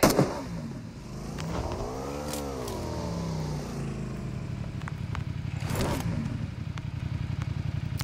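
Motorcycle engine in the mobile battle-royale game Battlegrounds Mobile India, revving up and down with a rising and falling pitch, then settling into a steady, rapid putter that runs close and loud throughout without talk.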